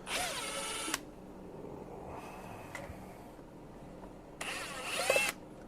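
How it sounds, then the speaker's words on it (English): Power screwdriver or drill backing screws out of an electric meter backplate, heard as two short whirring bursts about four seconds apart with a quiet pause between, fairly close and with no talk. "I just got to pull some screws out."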